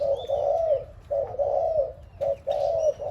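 An old decoy dove gives three drawn-out coos in succession, close and distinct against a quiet low hum, with no talking.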